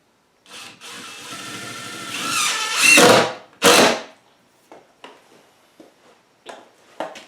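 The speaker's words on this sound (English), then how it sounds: "it's time to start screwing it down." A power drill drives screws into the wooden foundation of a chicken coop. The motor whine rises over a few seconds, a second short burst follows, then faint handling knocks and taps.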